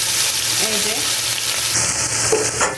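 Two chopped onions sizzle steadily in three spoons of ghee, browning for birista while being stirred now and then, a loud, close frying hiss with a few metallic scrapes near the end.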